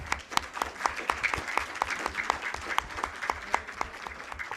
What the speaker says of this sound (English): let's get a big round of applause for all of the students of the month.